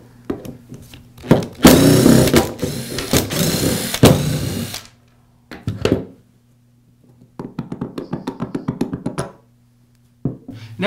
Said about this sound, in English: Now I can remove the spindle assembly by removing the 4 screws that secure it to the housing.